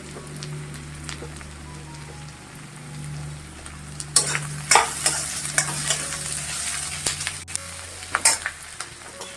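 Chopped garlic and ginger hit hot oil in a pan for a mixed sprouts curry, starting quiet then erupting into loud crackling sizzle with scraping spoon strokes as they are stirred.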